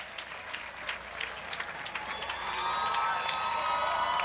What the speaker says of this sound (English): Nice round of applause for Jock and Lynn